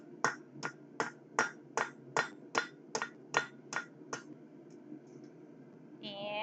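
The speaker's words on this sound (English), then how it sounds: "from 8, we turn it into no faces by hammering out all of the corners" Square steel stock is forged into tongs with a dozen evenly spaced, ringing hammer blows on the anvil, close and sharp, followed by a pause and a metallic scrape.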